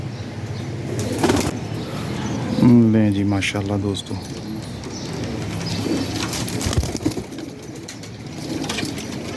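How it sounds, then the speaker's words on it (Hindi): A pigeon coos in low, throaty bursts near the mic, mostly in the middle stretch, among a pigeon fancier's birds, while someone talks and keys jangle now and then. "ये कबूतर इसका गुटक रहा"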